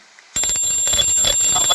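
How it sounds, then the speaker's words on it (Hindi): A hand bell rings loudly and suddenly after a brief quiet moment, its bright metallic tone ringing on steadily with rapid repeated strikes. "ये मेरे हाथ में एक घंटी है"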